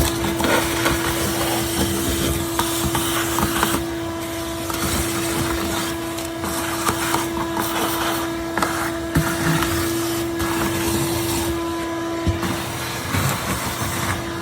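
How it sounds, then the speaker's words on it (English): A shop vacuum sucks debris out of a 100-gallon tank cage, a steady droning whine with rattling and scraping as the nozzle moves about, close and continuous, no talking. "We're gonna clean it up pretty decently right now with the shop vac"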